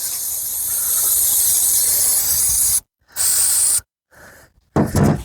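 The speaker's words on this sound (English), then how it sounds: "I'm going to hit it with some brake cleaner" Loud, close hissing bursts of brake cleaner sprayed onto an EGR valve from a Detroit engine, one long spray, then a shorter one and a few quick spurts.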